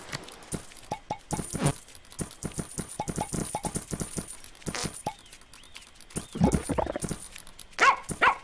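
Dogs in the Plantera video game give short, repeated barks and whimpers over chiming coin-like game sounds and rattles, all fairly quiet.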